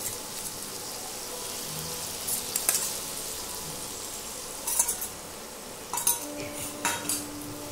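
Prawns marinated in salt and turmeric, stir-fried with spices in a pan over a medium flame: a steady soft sizzle with a few sharp utensil scrapes and clinks near the middle and end, no voices.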